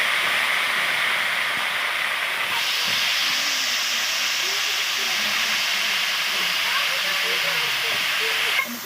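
Chunks of potato and eggplant sizzle loudly in hot oil with garlic and spices, a dense steady hiss that swells when the vegetables go in, with faint low voices underneath.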